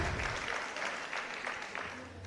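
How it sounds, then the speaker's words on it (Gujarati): An audience at a Gujarati motivational talk by Kajal Oza claps in a soft, fairly distant ripple of applause lasting a couple of seconds, with faint voices underneath. "તમારા પોતાના માટે તાળીઓ પાડો એકવાર"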